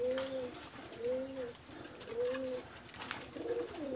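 A pigeon coos repeatedly in a low rolling rhythm, several burbling calls at steady intervals close by, with faint background noise.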